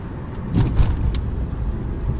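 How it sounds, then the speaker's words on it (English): Supercharged 370 hp V8 of a 2000 Jaguar XJR accelerating briskly, a steady, moderately loud engine drone with road noise and no speech. "That was not a full acceleration, just spirited."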